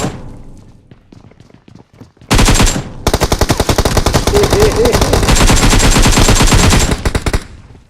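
Rapid automatic gunfire from the PUBG Mobile video game, loud sustained bursts after a quieter opening with faint talk, then a long dense stream of shots before cutting off near the end.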